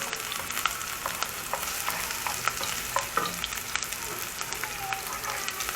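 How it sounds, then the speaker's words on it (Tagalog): White onion frying in a pan for sardine noodles, a dense continuous sizzle with scattered spatula scrapes and stirring knocks, close and steady throughout. "We're gonna add the white onion."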